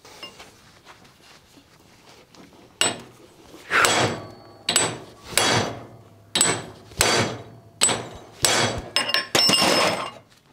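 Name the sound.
hammering to straighten a JUMZ tractor part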